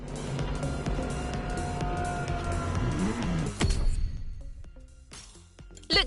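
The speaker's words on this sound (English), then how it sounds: "the first Ferrari in the supercar bloodline, the Ferrari GTO" A Ferrari GTO supercar engine roars in the racing game The Crew Motorfest: a loud, sustained drone that fades out, followed by a few sharp clicks near the end.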